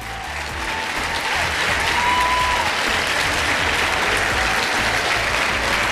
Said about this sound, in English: So students, give yourself a big hand